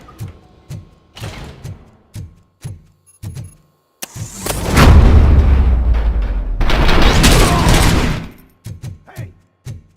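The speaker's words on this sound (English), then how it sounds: "am I hearing gunshots?" Gunfire in the video game RoboCop: Rogue City sounds in short sharp bursts, then a long, loud, sustained barrage in the middle before the shots break into short bursts again, close and dominant.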